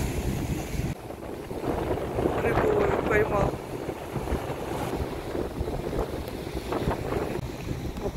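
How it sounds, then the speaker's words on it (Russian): Sea waves roll onto a rainy winter shore in Israel while wind buffets the microphone, a continuous rushing wash with surges of surf, close and fairly loud throughout. "Хочу показать вам хорошие волны."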